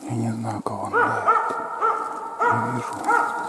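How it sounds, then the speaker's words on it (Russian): Hunting dog barking in cleared taiga forest while hunting marten, giving a series of sharp, tonal barks in short bursts at moderate distance, with pauses between them. "Я не знаю, кого он лает."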